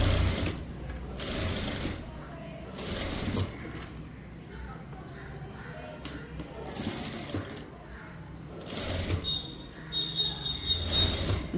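A sewing machine stitches a blouse in bursts of rapid mechanical whirring, separated by pauses while someone speaks instructions in Tamil between runs.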